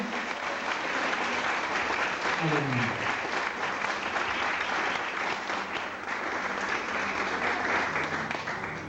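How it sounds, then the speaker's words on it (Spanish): A church congregation applauds in a sustained, dense wash of clapping that fills the room, with a voice briefly calling out over it. "¿Le das un aplauso a Jesús?"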